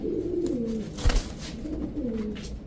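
Male silver tota pigeon, a big-size bird, cooing close by at a pigeon market, with two soft rolling coos separated by a brief louder thump or rustle.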